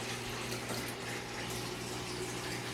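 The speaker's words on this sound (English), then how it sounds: "So now I got this tank filling while this tank's draining up there." Water pours and gushes in a steady, unbroken rush as aquarium tanks fill and drain in a fish room for African cichlids, with a low constant hum underneath and no voices.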